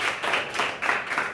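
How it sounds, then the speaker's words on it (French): An audience claps for a student among the top five of over a hundred candidates at a school festival certificate ceremony, a dense steady patter of many hands throughout, fairly close and with no talk over it. "On va encore applaudir pour elle."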